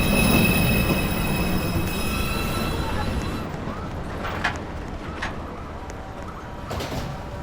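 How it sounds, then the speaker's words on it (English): A New York City subway 2 train, an R142A express, pulls into a station with loud rumbling wheels and high metallic squeals that fade as it slows, with sharp brake hisses and clanks near the end and no talk. "Downtown Express 2 train. Approaching the station, please stand away from the platform edge."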